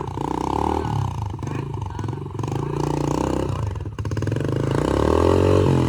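A motorcycle engine revs hard and steadily as the bike climbs a hill in a forested area of Punjab. The roar is loud, close and continuous, with slight surges in pitch.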